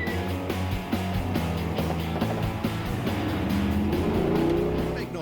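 Cars roar through a spy-car evasion chase on a long, winding road, engines loud and continuous with revving swells, tire noise and a passing rush, a background score playing underneath.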